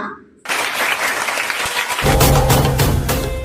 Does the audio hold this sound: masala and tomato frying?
no